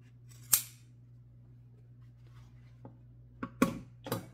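Scissors snip through overlapped pieces of material, a few sharp separate cuts with pauses between them, close and clear over a steady low hum, with no talking.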